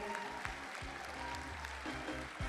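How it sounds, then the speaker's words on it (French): Audience at a university science-communication contest final applauds a candidate, a steady wash of clapping from a large hall with a low musical tone running underneath. "Nicolas Uriti, vous pouvez l'applaudir bien fort,"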